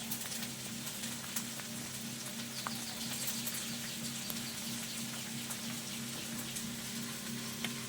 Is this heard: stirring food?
yes